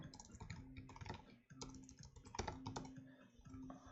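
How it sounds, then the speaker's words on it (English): Keys clatter on a computer keyboard during a coding session, close and steady, in quick irregular bursts of clicks with short pauses and no voices. "I'm horrible at typing."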